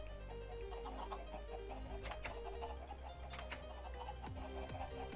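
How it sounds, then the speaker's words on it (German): Chickens clucking in the video game Minecraft, a faint, quiet scatter of soft clucks and short bird calls over a steady low background. "So, kommt her, ihr lieben Hühnerchen."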